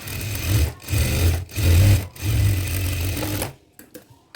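A sewing machine stitches a chudidar pant in several bursts of rapid, close mechanical whirring with short pauses between them, then falls quiet with a few small clicks at the end.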